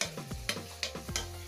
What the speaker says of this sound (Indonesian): Tumis dulu biar dia bau bernaik sikit wangi dia